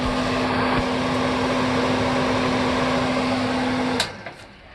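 Range hood fan over the stove in a 2009 Four Winds RV runs loudly and steadily with a constant whirring drone and hum, then is switched off near the end and quickly winds down to quiet.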